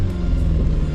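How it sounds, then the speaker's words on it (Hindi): A manual car's engine idles and rumbles steadily as it pulls away at night on rough, stony off-road ground, with a low, even drone and no voices. "पहले क्लच दबाई, चाबी ऑन करी, गियर डाला, क्लच छोड़ा, एक्सीलेटर दिया"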